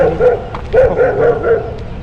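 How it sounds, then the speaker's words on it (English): A dog barks several times in quick succession, close by, with short yappy barks and a slight whine between them. "you can probably now hear a dog"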